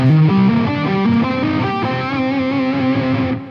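Distorted electric guitar plays a quick rolling lick of repeated notes climbing upward, loud and sustained, ending with a brief fade; a guitar solo lick.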